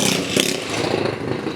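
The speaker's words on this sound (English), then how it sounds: "Sorry, loud ass scooter." A loud motor scooter roars past on an early-morning street in Saigon, its buzzing engine close and rough for the full second and a half.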